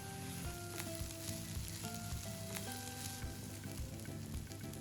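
Mushrooms fry and are stirred in a pan in a Sri Lankan home kitchen, giving a steady close sizzle with soft scraping stirs, while music plays quietly in the background.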